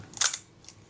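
The shutter of a Retina Reflex type 025 camera with a faulty release fires at a slower speed: a sharp close mechanical snap followed by a second quieter click, heard alone.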